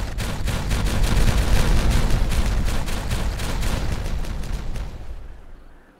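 Dynamite detonations in a canyon-building video game roar as a dense, sustained rumbling barrage of blasts lasting several seconds, then fade away into quiet at the end.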